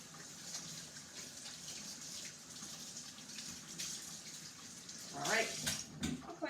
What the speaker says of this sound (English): I'm gonna wash my hands because I got a little bit dirty